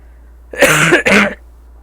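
Two quick, harsh coughs close to the mic, one right after the other, with near silence before and after.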